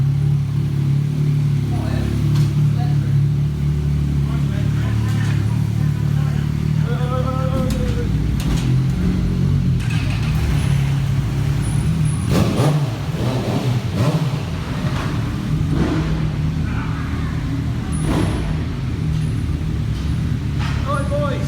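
Several motorcycles roll in at low speed to park, engines idling and blipping up close in steady overlapping rumbles, with people talking over them.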